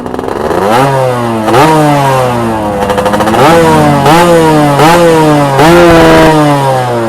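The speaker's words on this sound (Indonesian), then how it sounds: "Kalau dari geberannya sih sangar po ya, enak geberannya." A Suzuki Satria motorcycle engine is revved hard and close, about six sharp rises in pitch that drop back to idle between blips, loud and raspy throughout.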